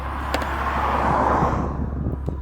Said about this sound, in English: We're going to leave the car running.